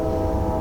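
A short, loud, low rumbling train sound effect, like a passing locomotive, plays as a livestream hype-train alert. It lasts under a second and stands alone with steady, droning power.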